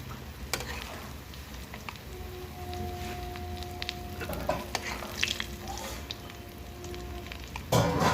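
Fish roe fritters frying in a pan of oil give a steady, close sizzle with a few soft stirring clicks and scrapes. No one speaks.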